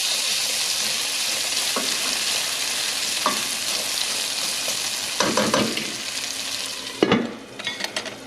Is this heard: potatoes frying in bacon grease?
yes